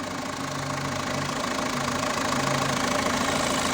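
A Renault 1.9 dCi diesel engine, as fitted in the Megane, Laguna and Trafic, idles with a close, steady clattering knock and low rhythmic throb.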